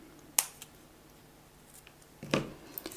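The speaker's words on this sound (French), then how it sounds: "on coupe le fil" Scissors snip through crochet yarn in two sharp, quiet clicks about two seconds apart in an otherwise still room.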